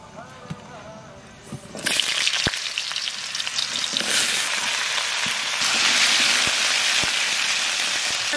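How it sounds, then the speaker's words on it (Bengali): Potatoes frying in hot oil seasoned with cumin, five-spice and dried red chillies, a loud steady sizzle that swells suddenly as they hit the pan, with stirring scrapes over a close, continuous crackle. "আলুটা একটু ভাজিয়ে নিচ্ছি"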